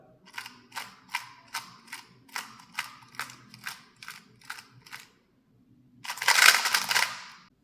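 A 2x2 puzzle cube being turned gives about a dozen quick, evenly spaced plastic clicks, close and crisp, followed by a denser burst of rattling turns, with no talking.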